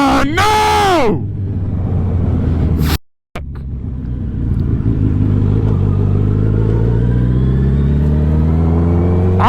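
A Suzuki motorcycle engine revs hard with rising and falling harmonic sweeps, cuts out abruptly for a moment, then runs on with a rough, clattering drone as it fails, loud and close, with a voice exclaiming over it.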